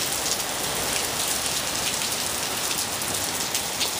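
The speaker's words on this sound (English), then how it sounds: "it was pouring like this when we left the grocery store" Heavy rain from a microburst downburst pours down in a dense, steady roar of drops hitting surfaces, loud and continuous with no breaks or voices.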